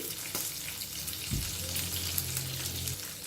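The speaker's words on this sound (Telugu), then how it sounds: "ఇప్పుడు ఈ ఉల్లిపాయ ముక్కల్ని ఒక రెండు నిమిషాలు ఫ్రై చేసేసుకోవాలి" Thinly sliced onion frying in a pan with curry leaves, a steady close hiss and sizzle with a faint stir partway through.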